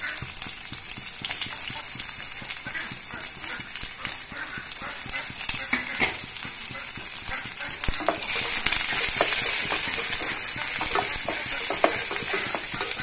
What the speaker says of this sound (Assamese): তাৰপিছত দিছোঁ পিঁয়াজখিনি দি দিছোঁ